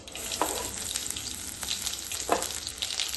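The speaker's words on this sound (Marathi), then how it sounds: "त्याला चांगलं गोल्डन होईपर्यंत परतून घ्यायचं" Garlic slices fry with mustard seeds and cumin in hot oil, a continuous close crackling sizzle with a few sharper pops and a couple of brief stirring scrapes.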